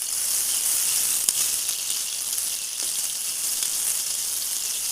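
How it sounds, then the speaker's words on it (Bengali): Onions and green chilies fry in hot oil in a wok, giving an even, loud sizzling hiss with tiny pops and one faint tap. There are no voices. "কড়াইতে গরম তেল দিয়ে তার মধ্যে পেঁয়াজ কাঁচামরিচ দিয়ে নিয়েছি।"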